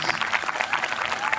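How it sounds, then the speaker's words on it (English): An audience claps steadily in a dense, continuous wash of applause that fills the whole short stretch at an even level. "I want everybody to give them one more hand of applause"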